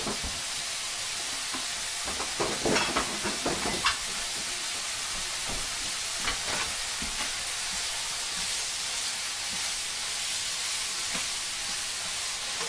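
Chili paste sizzles in a hot stir-fry pan with a constant, close frying hiss, broken early by a few scraping stirs from a utensil.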